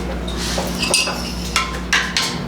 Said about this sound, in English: Just gotta stir that all in there.